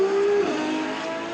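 A loud, high-revving Ferrari LaFerrari 6.3-litre V12 engine screams steadily near 8000 rpm, its pitch sliding slightly downward as it holds near full throttle.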